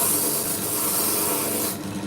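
Sandpaper of a finer grit rasps steadily over a cast copper piece, a continuous close, loud abrasive rubbing that eases off slightly near the end.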